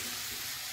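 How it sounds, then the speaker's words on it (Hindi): Maggi noodles cook with onion, tomato and chilli in hot oil, giving a continuous soft sizzle and fry hiss for a brief moment, fairly faint and with no talk. "प्याज और टमाटर मिर्ची इनके साथ मैगी को तेल में थोड़ी सी देर इसको पकाएंगे"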